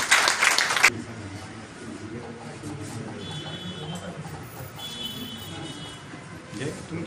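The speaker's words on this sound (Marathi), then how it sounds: "जोरदार टाळ्या त्यांच्यासाठी." An audience at a gathering honoring journalists bursts into loud applause for about a second, then the clapping stops and a person continues speaking over a quiet room.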